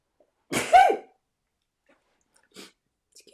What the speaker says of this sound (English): I've got a sneeze coming, I can feel it